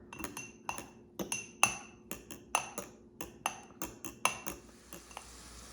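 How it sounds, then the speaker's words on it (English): A metal whisk rapidly clinks against a pan of gravy in quick, uneven strokes, bright and close, continuing steadily for several seconds without speech. "Look how quick that whisked."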